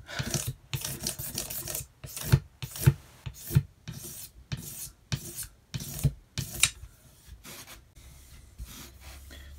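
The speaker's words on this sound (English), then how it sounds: "when you scrape wood or sand wood," Rhythmic rasping strokes of wood being scraped and sanded along the grain during a Squier Telecaster upgrade, about a dozen close, dry back-and-forth passes with short pauses between them.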